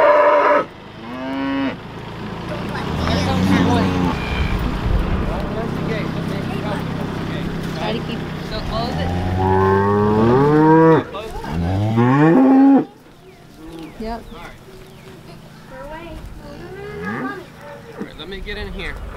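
Cattle moo repeatedly and loudly, long drawn-out lowing calls close by in a farm paddock beside a barn, several animals overlapping with a person talking among them.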